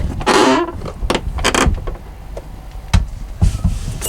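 A semi truck with a dead battery failing to start, giving a few short clicks and clunks and brief whirring bursts, fairly close, with pauses between attempts and no sustained engine sound.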